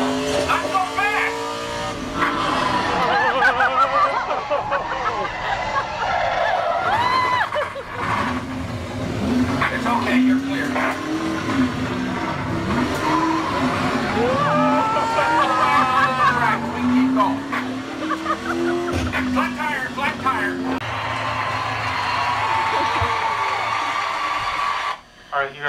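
A race car pulls out onto a speedway track with its engine revving loudly and rising and falling in pitch, close by, while people talk and call out over it.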